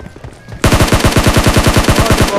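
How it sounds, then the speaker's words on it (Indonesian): A rapid, loud string of video-game gunfire bursts out after a quiet moment, repeating steadily in even rhythm until the end; attributed to a shotgun. "Gua bener kan dia pakai shotgun"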